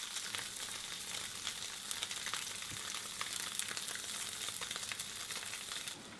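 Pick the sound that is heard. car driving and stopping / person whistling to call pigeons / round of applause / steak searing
steak searing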